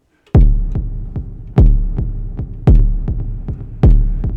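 A distorted kick drum rumble from an Elektron Digitakt II synth booms repeatedly in an irregular rhythm, each hit loud and punchy with a long delayed, reverberant low tail, no voices.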